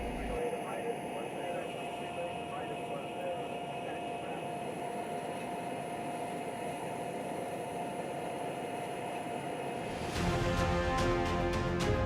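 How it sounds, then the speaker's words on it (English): An RQ-4 unmanned drone aircraft taxiing toward the runway gives off a steady, continuous engine drone, and a louder, harsher rumble takes over near the end. "Ground controllers use a secure data link to guide the drone along taxiways toward the active runway."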